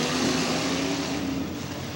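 Race car engines roar together at the green flag of a 2005 dirt track race, a loud continuous droning wall of engine noise with no talk over it.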